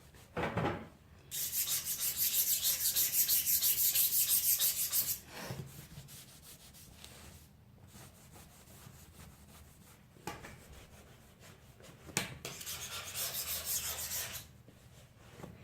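During a vacate clean, gunk is scrubbed off a household surface in long, loud rubbing strokes. A sustained stretch of scrubbing is followed by shorter passes and pauses, close up with no talking.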